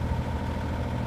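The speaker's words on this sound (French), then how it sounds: "on entend le moteur là" A sailboat's engine idles steadily at a low, droning hum, moderately quiet and unchanging.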